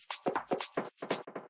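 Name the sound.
live shaker without sidechain compression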